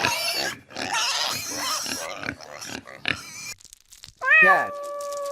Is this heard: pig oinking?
yes